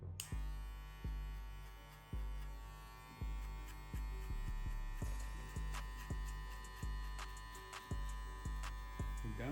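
Electric hair clippers with a half guard and the lever closed buzz steadily through a crop-top fade haircut, with repeated strokes every second or so as they pass through the hair, close and loud, without speech.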